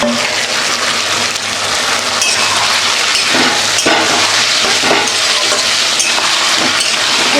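Sliced onion stir-fries in a hot pan of oil, a loud, steady sizzle and crackle running the whole time, with scattered scrapes and clicks from stirring.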